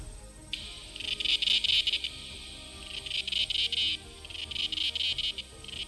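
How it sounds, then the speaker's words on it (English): A swarm of cicadas buzzes in dense, shrill waves that swell and fade three times, a loud high drone surrounding the listener with no voices present. "many also say that cicadas make a pleasant sound that envelops you from all sides"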